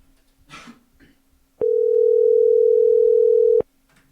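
A steady telephone dial tone sounds while a call is being placed, holding loud and unbroken for about two seconds after a brief burst of background noise.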